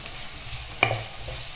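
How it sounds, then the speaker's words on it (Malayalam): Green chillies and onions fry in a pan as a spoon stirs them once, a single scrape rising out of a soft, steady sizzle. "നന്നായിട്ട് ഒന്ന് ഇളക്കി ചേർത്ത് കൊടുക്കാം"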